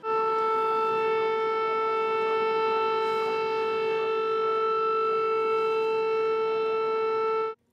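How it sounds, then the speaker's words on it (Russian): Civil defense sirens wail across a city during a minute of silence marking the January 2015 shelling of the Vostochny district in Mariupol, a loud steady tone held for the whole stretch before cutting off abruptly. "На 60 секунд в городе включили сирены."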